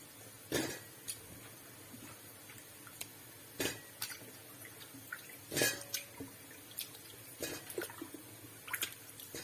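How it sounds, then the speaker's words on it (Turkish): Peeled Jerusalem artichokes are washed in a bowl of water in a home kitchen: intermittent splashes, drips and light clinks of dish and utensil, close and fairly quiet, with no talking. "Şimdi bunu bir kere bu suda yıkayalım."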